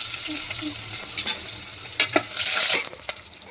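Onions frying in a pan for a spicy goat blood and lung gravy, a steady hiss of sizzling oil broken by several scraping stirs, close and alone with no talk.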